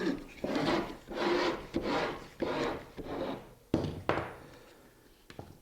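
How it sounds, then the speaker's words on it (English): A veneer saw rasps back and forth through thin wood veneer in several steady strokes, close and fairly quiet, followed by a few lighter scrapes and taps as the cutting slows. "it'd take about somewhere between 5 and 10 swipes with the veneer saw"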